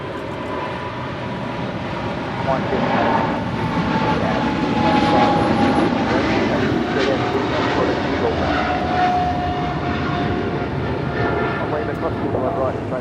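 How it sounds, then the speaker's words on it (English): A Korean Air Cargo jet takes off on LAX runway 25R, its engine roar building and holding loud and steady as it rolls, with a faint whine riding above and speech partly over it. "Korean Air Cargo 8274 now rolling on 25 right out to Seoul."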